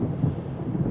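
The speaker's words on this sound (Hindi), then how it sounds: "बिजली कड़क रही है" Low, rolling thunder rumbles steadily through the whole moment as a storm gathers, a broad dull roar without any sharp crack.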